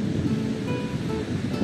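Low rumbling surf of Atlantic Ocean waves in Portugal, a continuous wash of water noise with some wind, steady and fairly close.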